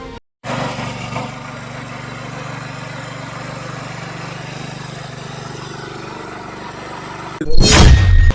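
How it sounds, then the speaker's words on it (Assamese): A small tractor engine runs at a steady, loud drone close by, holding an even idle-like hum before a sharp burst of louder, harsher noise near the end. "বৰ্তমান বজাৰলৈ অহা এই ট্ৰেক্টৰলৈ মন কৰক"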